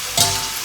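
Salmon pan-fries in butter with a loud, close sizzle that flares briefly as the fish or fat hits the pan, then settles into a steady hiss.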